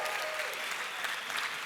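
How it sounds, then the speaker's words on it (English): An audience at the 2021 AL DÍA 40 Under Forty awards event claps in sustained, dense applause from start to finish, full and even with no break. "So let's give a round of applause on that."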